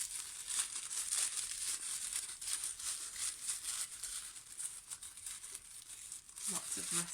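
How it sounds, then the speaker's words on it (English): Tissue paper crackling and rustling steadily as layers of a paper flower are pulled apart, close and continuous with soft bursts of crinkle. "Nice rustling paper."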